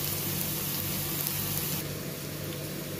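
Onions sautéing in a pan for a curd gravy give a steady, close hiss of sizzling oil that runs unbroken throughout, with no talking.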